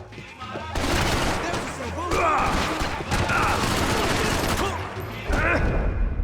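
Heavy gunfire erupts in a Max Payne 3 shootout in the São Paulo favelas, dense bursts and single shots cracking close and loud across the whole stretch, with a voice talking over the chaos.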